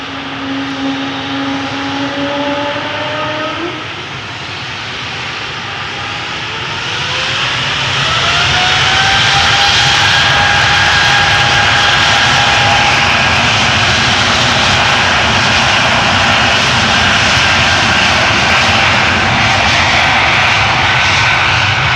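An Embraer 195 E2 jet airliner bound for Hamburg takes off from Amsterdam Schiphol's Polderbaan runway, its engine roar swelling from a whining spool-up into a loud, sustained broadband thrust noise.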